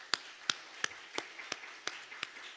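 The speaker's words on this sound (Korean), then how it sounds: "우리 박수 한번 하겠습니다" Slow, faint claps at a Sunday church service, about nine sharp hand strikes spaced roughly every third of a second in a quiet room, sounding like one or a few people rather than a full congregation.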